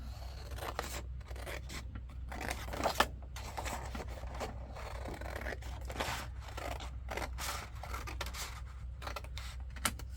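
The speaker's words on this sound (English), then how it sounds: "And now we're going to cut this off." Scissors or a blade cutting through paper on a handmade shabby chic junk journal notepad, with soft intermittent snips and scraping close by over a low steady hum, and no talking.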